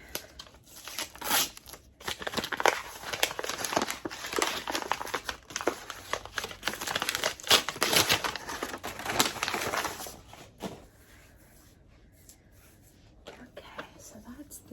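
A new tarot card deck is unwrapped, with crinkling and tearing of plastic wrap in busy bursts that rise and fall for about ten seconds before fading to quiet handling.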